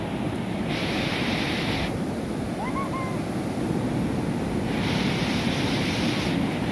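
Ocean waves wash steadily onto a beach in a continuous close roar, with two brighter surges of surf rushing in and a faint bird call in between.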